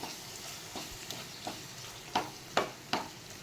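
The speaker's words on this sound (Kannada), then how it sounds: "ಈ ರೀತಿ ಮಿಕ್ಸ್ ಮಾಡಿ. ಅದು ಸಹ ಬೇಯಬೇಕು ಸ್ವಲ್ಪ. ಇದು ಎಣ್ಣೆಯಲ್ಲೇ ಬೇಯುತ್ತಿರೋದು" Ground masala stirred and frying in oil in a pan for a rice and peanut usli, giving a steady soft sizzle with several brief scraping stir strokes, close and quiet.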